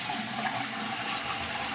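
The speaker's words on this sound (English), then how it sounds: "Let's go ahead and flush." A Kohler toilet does a half flush, a steady loud rush of water draining and refilling with no talking over it.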